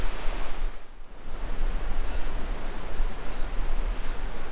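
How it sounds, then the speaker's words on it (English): Cold Atlantic Ocean waves wash steadily along the shore in a broad, continuous roar of surf, with some wind noise, heard alone without talk. "The cold Atlantic Ocean."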